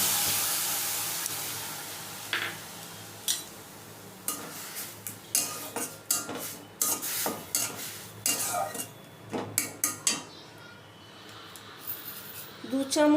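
Blended watermelon paste added to a hot wok, with soft sizzling under repeated scraping and clinking of a utensil stirring against the pan, the strokes irregular and close.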